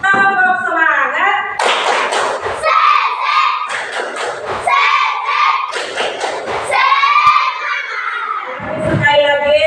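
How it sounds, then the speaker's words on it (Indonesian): A school class performs the rhythmic 'tepuk semangat' clapping routine, many young voices chanting loudly together in bursts while hands clap in time, close and energetic. "Coba sekarang kita tepuk semangat dulu."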